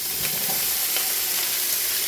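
Zucchini, peppers and onion sizzling and frying in a pan alongside sausage, a steady close crackling hiss with a few stirring scrapes.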